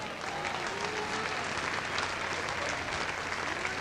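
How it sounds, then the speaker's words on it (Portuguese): A church congregation applauds during a sermon, a dense, steady wash of many hands clapping at once, filling the hall at an even level throughout. "Aplauda ele agora."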